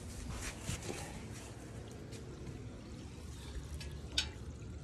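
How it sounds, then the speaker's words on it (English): Water runs through a sewer lateral drain pipe during a repair check, a faint, steady low rush with a few small clicks and knocks on top. "I turned the water on just to make sure that everything is flowing downhill."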